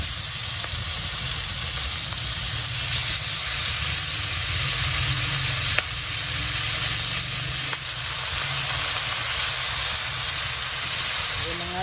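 Chicken liver goes into a pot of chicken sotanghon soup and sizzles with a steady, close hiss, joined by occasional faint stirring clinks.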